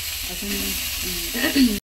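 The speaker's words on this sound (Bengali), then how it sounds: "এটা আলু ভাজা হচ্ছে অ্যাকচুয়ালি" Potatoes fry in a pan for breakfast in a Bengali village home, a bright steady sizzle running close by, with a few low stirring or handling noises and brief tonal sounds in the background before it cuts off.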